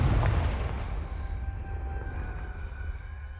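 A Confringo blasting curse from the game Hogwarts Legacy detonates in one loud, deep boom at the start, then rumbles and fades over a few seconds.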